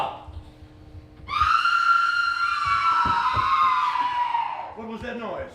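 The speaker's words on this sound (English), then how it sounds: "It's the cry of women, my good lord." Women wail from offstage during a stage performance of Macbeth, a loud, sustained high cry lasting several seconds that breaks into sobbing at the end, with low stage rumble beneath.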